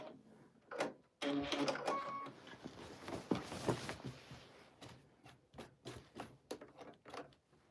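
Sewing machine stitching pieced quilt backing fabric, a quiet run of rapid mechanical clatter that slows into separate ticks and taps, as in back tacking.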